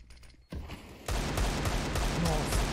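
Rapid bursts of gunfire from Counter-Strike: Global Offensive in a professional match, starting quiet then jumping sharply louder into dense, sustained shooting that runs to the end, with a commentator's voice faintly underneath.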